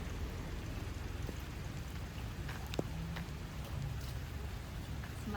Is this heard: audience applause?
no